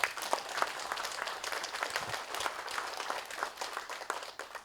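An audience at a commemorative cultural festival applauds a guest, a full, continuous round of clapping with a few sharper claps near the microphone, steady throughout with no talk.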